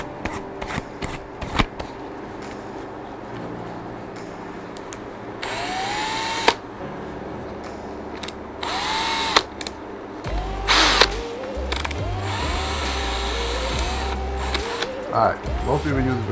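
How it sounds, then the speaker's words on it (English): A power drill spinning a small buffer pad against a golf shaft, with bursts of whirring motor and rubbing alongside clicks and handling noises, heard up close and in short runs. "gonna get our drill. So I got this little buffer."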